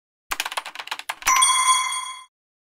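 A doorbell chime in a Japanese comedy skit, opening with a quick burst of clicking taps, then a clear ringing tone held for about a second before it cuts off, with nothing else around it.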